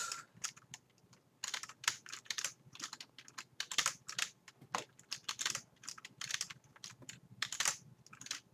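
Rapid bursts of typing on a computer keyboard, with irregular clusters of sharp key clicks and short pauses between them, close and fairly loud, with no voices.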